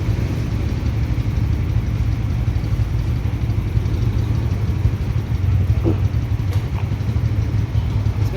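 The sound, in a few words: motorcycle engine running just after being started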